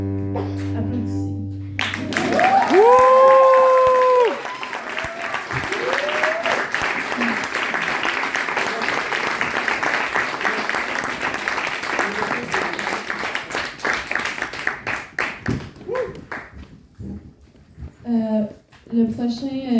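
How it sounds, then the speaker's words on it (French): Audience applause fills a small cabaret venue after a short tonal musical phrase, a loud burst of clapping that stays steady for many seconds before thinning into scattered claps, with whistles and voices mixed in near the end. "Applaudissez."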